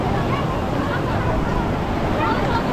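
Sardu Khola, a large stream near Dharan, rushes steadily with a dense, unbroken wash of water noise that carries on without a pause.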